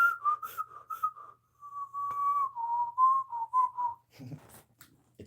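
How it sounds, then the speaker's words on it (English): A single person whistling on both the in-breath and the out-breath, with clear, close wavering notes in short phrases broken by pauses and breaths. "You know that you can whistle in and out?"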